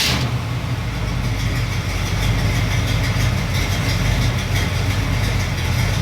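A Chevy small block 350 V8 truck engine idles at around 600 to 700 RPM, a steady, low rumble that runs evenly throughout, close by and smooth, with no talking.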